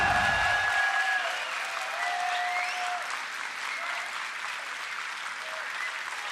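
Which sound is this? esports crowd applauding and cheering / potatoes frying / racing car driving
esports crowd applauding and cheering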